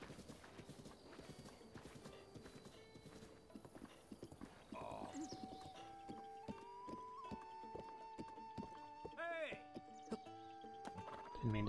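Horse hooves clip-clop in steady rhythm within the Breath of the Wild video game, a quiet trotting gait joined by a brief whinny and game chimes, with a voice talking over parts of it.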